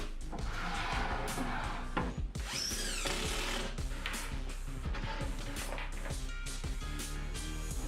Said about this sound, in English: I set it to place and screw it into the stud